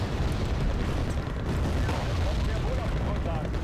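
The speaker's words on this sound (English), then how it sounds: "Now I want to see this bomb go off." A bomb detonates in Wargame AirLand Battle, a dense, continuous rumbling roar of blast and debris that fills the whole stretch at steady high loudness.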